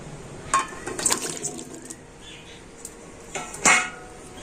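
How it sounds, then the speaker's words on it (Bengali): Cut raw mango pieces dropped into a bowl of water, giving close clinks, knocks and small splashes in two brief clusters over a quiet kitchen background. "এবার ওই জলের মধ্যে দিয়ে দেবো কেটে রাখা আম"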